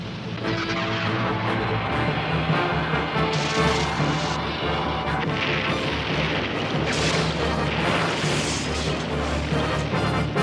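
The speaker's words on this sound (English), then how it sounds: "oil tanker is our escape ticket. Fire torpedo!" Cartoon torpedo explosion from an animated G.I. Joe battle, a dense, loud, continuous roar of blasting and rumbling debris that fills the whole stretch without letting up.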